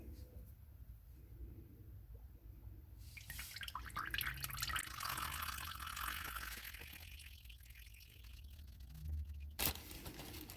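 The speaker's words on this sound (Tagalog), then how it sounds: "Loosen the oil filter and let the oil drain out." Engine oil draining from a loosened oil filter on a Kia Soul, a faint, close dribble and trickle of liquid that rises in the middle and fades, with a brief louder knock near the end.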